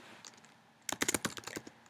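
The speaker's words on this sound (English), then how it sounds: "and I can start typing" Rapid typing on a computer keyboard in a quiet room, a burst of close, crisp key clicks in an uneven rhythm after a near-silent start.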